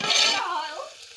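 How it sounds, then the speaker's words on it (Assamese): Potatoes fried in a pan sizzle with a bright hiss at first, then quieten as stirring scrapes continue briefly, close by and without voices. "এইফালে কুন্দুলি আলু ভাজি হৈছে"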